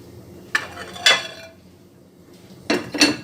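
Metal pans and dishes clatter in a home kitchen as a frying pan is set down for cooking, a few sharp knocks and clinks spaced apart, close and fairly loud, no talking.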